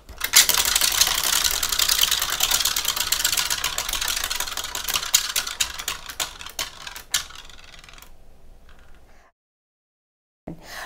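A prize wheel spins with a dense run of rapid clicks that gradually slow and thin out, then stop, followed by a brief silence before faint sound resumes.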